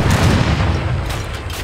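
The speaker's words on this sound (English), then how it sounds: "Sir, one of the explosions has revealed another passage." Explosions in the Age of Empires III campaign, blasting through caves to open a passage: a loud, sustained rumbling boom with heavy low-end roar that persists for the whole moment, no speech over it.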